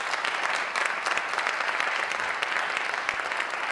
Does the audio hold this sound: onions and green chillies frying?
no